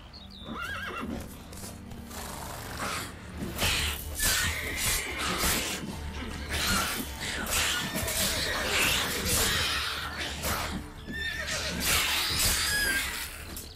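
Geralt's horse Roach in The Witcher 3: Wild Hunt – Hearts of Stone, neighing and whinnying repeatedly over steady clip-clopping hooves, loud and close throughout.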